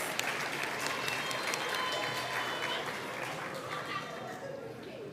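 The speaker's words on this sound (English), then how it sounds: "give yourself a round of applause" Applause from a large crowd at a schools' elocution contest, steady clapping throughout, with voices mixed in.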